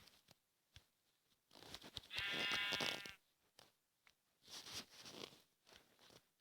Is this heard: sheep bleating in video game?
yes